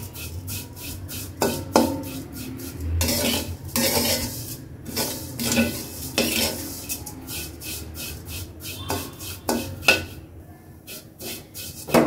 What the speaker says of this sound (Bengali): সামান্য একটু তেলে সেমাইটা ভেজে নিব।